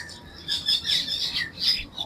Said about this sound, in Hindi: खूबसूरत चिड़ियों की आवाज़ें, खूबसूरत दरख्तों के अंदर।